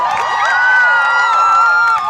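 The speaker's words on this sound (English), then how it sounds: "Let's cheer them on, ladies and gentlemen." Spectators at a real-life jousting match cheer and whoop loudly together, a short swelling burst of many voices that holds for about two seconds before dropping slightly.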